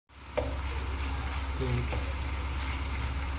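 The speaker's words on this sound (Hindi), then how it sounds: "इसको अब थोड़ी तेज़ आंच पे हम 1 से 2 मिनट फ्राई करेंगे" Chicken pieces for chicken noodles fry over a high flame with a loud, steady sizzle that starts abruptly, with a few faint clatters from a utensil.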